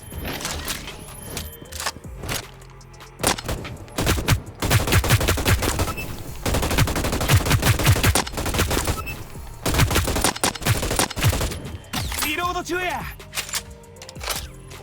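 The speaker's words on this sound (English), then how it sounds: "The Ripper is your automatic assault rifle." Automatic assault rifle called the Ripper firing in the Hyper Scape video game: repeated loud bursts of rapid gunfire with brief pauses between them, close and dominant throughout.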